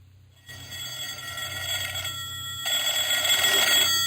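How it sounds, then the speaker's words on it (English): A telephone rings as a radio drama effect, a bright repeating electric bell heard alone at moderate loudness, with two ringing bursts close together. "The phone was ringing as I stepped into my apartment."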